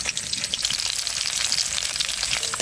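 Koi fish sizzling in hot oil in a pan, a steady dense crackle and hiss that stays loud and close throughout with no talking.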